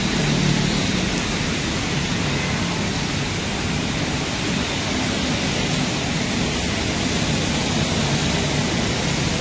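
Heavy rain pours outdoors as a storm arrives, a loud, dense, unbroken roar of falling water with no voices.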